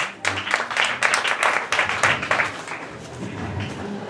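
Church congregation applauding during a French-language sermon, dense rhythmic clapping from many hands that stays steady, then thins out toward the end, with faint voices underneath.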